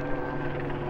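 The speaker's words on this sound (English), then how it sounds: "I can hear a helicopter." A steady, droning rotor hum with a low pulsing throb, continuous through the brief moment, like a helicopter passing nearby.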